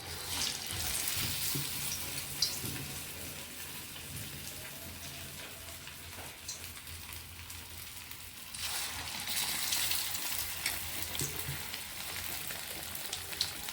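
Steady crackling sizzle of urad dal vada batter frying in hot oil, continuous and close, with occasional small clinks and no talking.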